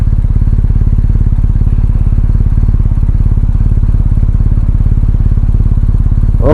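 A motorcycle on Michelin Anakee tyres rides steadily along a road, with a loud, continuous, rapid engine thrum and road roar running unbroken throughout.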